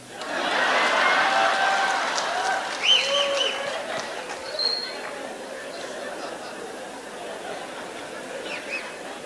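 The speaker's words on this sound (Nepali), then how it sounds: "प्रहरी भाइहरूले झुकिएर ताली हान्नु होला नि फेरि" Crowd applause at an outdoor political rally in Nepal: a burst of clapping swells up, then thins into scattered claps mixed with murmuring chatter, whistles and a few shouts from the audience.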